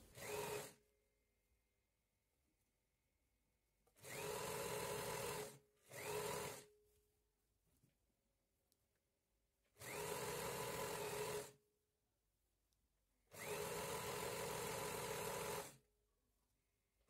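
Sewing machine running straight stitches around a skirt hem: four separate bursts of loud steady whirring, each one to two seconds long, with quiet pauses in between.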